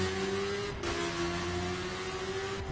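A Skyline Dragster car in The Crew video game, its engine holding a steady revving drone with a clear tonal whine that dips briefly and recovers, loud and close with no talk over it.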